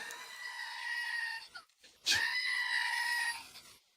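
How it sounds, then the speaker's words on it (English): A screaming goat toy, given as a gift, lets out two long, nasal goat-like screams close up, the second louder, with a short break between them. "She got me a screaming goat."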